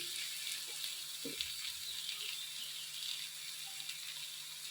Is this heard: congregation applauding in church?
no